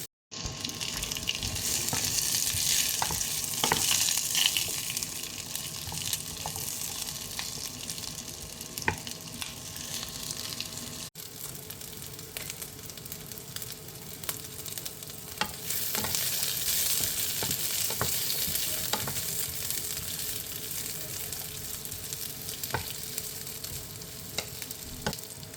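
Chorizo and onions fry in a pan, a steady close sizzle with crackles and occasional stirring scrapes running continuously without talk.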